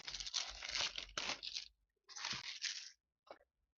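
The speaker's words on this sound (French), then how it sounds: "On va s'ouvrir ce petit display." A cardboard Pokémon card display box is torn open with sharp ripping and crinkling in several short bursts. Brief pauses fall between the tears, and a small final rip closes the sequence.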